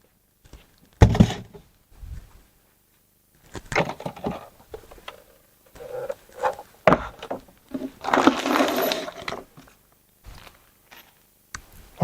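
An Oase Aquamax Eco Premium pond pump is handled up close, giving scattered knocks, thunks and light plastic rattles with quiet gaps between them.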